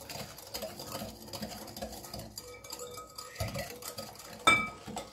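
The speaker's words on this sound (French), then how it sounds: "Faut monter les œufs avec le sucre." Eggs and sugar are whisked by hand in a bowl for an apple cake, giving a fast, continuous patter of light tapping and stirring, close but faint, with a brief clink near the end.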